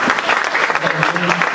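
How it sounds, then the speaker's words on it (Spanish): Short burst of audience applause in a full auditorium at an insurance and pensions seminar, dense and steady clapping with a murmur of voices. "Yo creo que un merecido aplauso para ustedes,"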